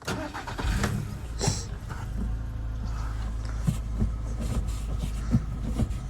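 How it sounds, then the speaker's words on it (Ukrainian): A warmed-up Audi A-series MPI petrol car with about 171,000 km starts and settles into a steady idle, its engine rumbling continuously up close with no talk over it. "Давайте ще раз заведемо автомобіль на гарячу."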